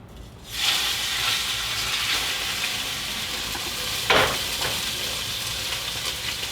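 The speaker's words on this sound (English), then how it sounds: "So we want to put a nice sear on the steak before we turn it over and put it in the oven." Steak about 1.25 inches thick searing in a hot pan, a steady loud sizzle that bursts in abruptly and continues alone, with a brief flare of louder spitting partway through.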